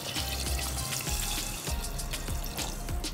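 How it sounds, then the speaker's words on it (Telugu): Water is poured into a pan of frying mutton trotters for paya curry, giving a steady, close hiss and splash with sizzling crackle throughout, alone without talk. "ఇప్పుడు ఇందులో ఇవి మునిగేంత వరకు వాటర్ పోసుకుందాం."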